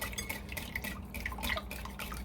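Butter being whisked into cornbread batter for cast iron cornbread, giving soft continuous wet stirring and faint clinks of a whisk against the bowl, steady and close throughout.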